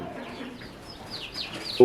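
Chickens clucking and chirping softly in a rural Bangladeshi yard, several scattered short calls at moderate distance, with someone talking over them.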